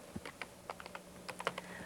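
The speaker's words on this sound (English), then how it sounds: "So I need to type that on the keyboard." Typing on a touch keyboard to enter a file name on a Viking embroidery machine's customizing system: a sparse, uneven string of soft, close taps over a steady background hum.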